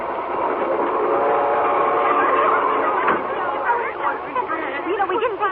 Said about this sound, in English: On the night train bound for Boston, the unsuspecting Stella lies awake in a lower berth